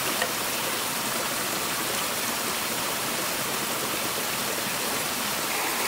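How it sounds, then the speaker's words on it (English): A rainforest stream flows with a steady, dense rushing wash of water that never lets up, close and even throughout, with no voices. "Listen to the water, it has its own concert"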